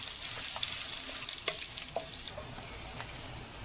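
Onions frying in a pan until browned for ginger chicken keema, a steady close sizzle with scattered crackles and light stirring clicks throughout.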